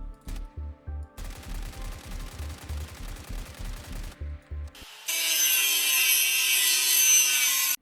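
A Scar L rifle fires in a video game in a steady, fairly slow string of loud shots, then cuts to a bright, hissing wash of noise.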